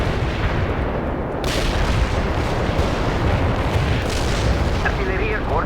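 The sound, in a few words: artillery barrage in video game World in Conflict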